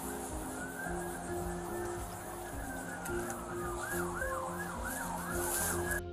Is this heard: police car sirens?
yes